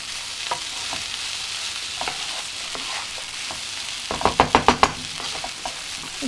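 A mushroom rice pulao with turmeric is stirred in a pan over a soft steady sizzle, and a quick run of spoon taps and scrapes comes near the end.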